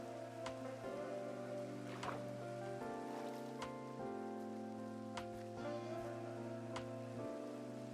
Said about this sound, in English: Look at the Basilica in the rain